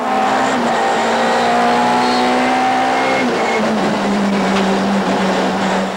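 Touring race cars of the 1997 Bankfin series roar through Goodyear Corner at Kyalami, engines loud and continuous as several cars pass with shifting pitch.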